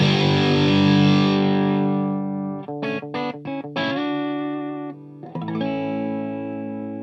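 An electric guitar played through a Tonebone Classic V9 distortion pedal at its highest gain setting rings out a sustained distorted chord, then several short choppy stabs, then another ringing chord.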